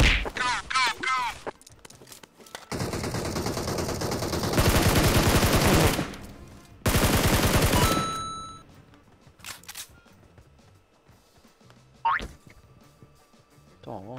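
Gunfire in the mobile game PUBG Mobile: bursts of rapid automatic shots in long dense volleys, separated by quieter gaps with a few single cracks and game effects, close and loud.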